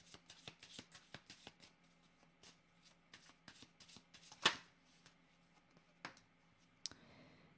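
Tarot cards being shuffled and drawn in a quiet room, a close run of soft riffling flicks and papery slaps, with a couple of sharper snaps toward the end.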